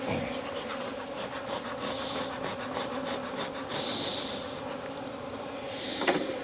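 Honey bees hum steadily around a crowded brood hive in Jacksonville, Florida, their close, continuous buzzing swelling louder in a few brief surges as bees fly near.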